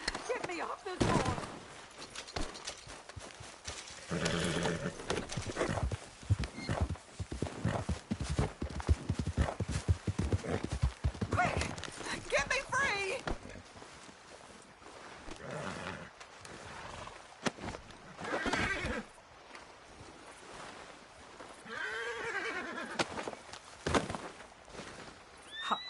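Rapid hoofbeats clatter in a galloping rhythm with bursts of Red Dead Redemption 2 sound effects, while voices speak intermittently over the action.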